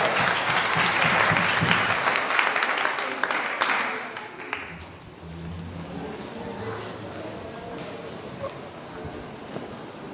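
Warm applause from a church congregation at an anniversary service, loud at first, then fading after a few seconds into a quieter room with faint voices.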